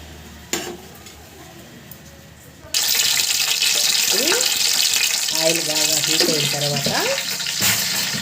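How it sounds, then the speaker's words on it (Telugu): Ghee sizzles and crackles steadily in a pan on a gas stove, loud and close, beginning abruptly after a quieter stretch with a few clinks, with brief stirring and scraping noises over the sizzle. "ఇప్పుడు ముందుగా గ్యాస్ ఆన్ చేసుకొని నెయ్యి వేసుకోండి"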